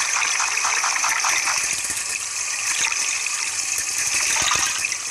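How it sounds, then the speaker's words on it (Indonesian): Spaghetti boiling in a pot of water in the Toca Kitchen 2 cooking game, a steady loud bubbling and gushing that runs unbroken throughout with no talk. "Kita rebus aja ya si spagettinya dulu. Spagetti rebus."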